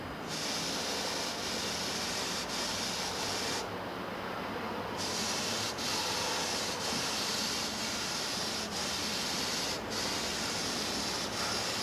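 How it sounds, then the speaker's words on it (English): A spray gun at about 30 pounds of pressure sprays a 50-50 mix of thinner and clear coat onto a 1987 car, giving a loud, continuous hiss with only slight breaks, close by and alone. "Spraying with about 30 pounds of pressure, 50-50 thinner and clear."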